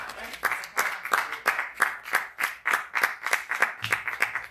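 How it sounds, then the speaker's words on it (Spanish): Steady rhythmic clapping from a church congregation during a Sunday sermon, sharp evenly spaced beats, loud and close, with no talk over it. "Denle un fuerte aplauso al Señor."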